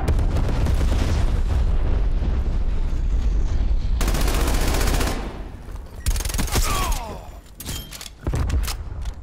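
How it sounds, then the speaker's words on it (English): Bomb strike explosions in a military shooter game hit loud and close, with a dense barrage of blasts and gunfire filling the first half before sharp cracks and booms break up into a few separate hits. "bomb strike incoming"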